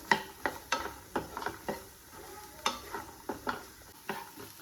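Vegetables and cooked peas stirred in a pan, a spoon scraping and tapping against the metal in irregular strokes over a faint sizzle, close and fairly quiet.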